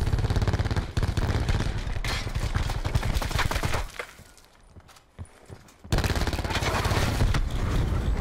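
Rapid automatic gunfire from the Call of Duty Blackout video game, dense bursts of shots that stop briefly mid-clip and then resume loud and close.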